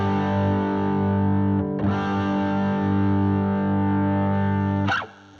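A Stratocaster electric guitar played through a Dumble-style overdrive pedal holds a thick, smooth, distorted lead note for several seconds, then cuts off with a short pick attack near the end.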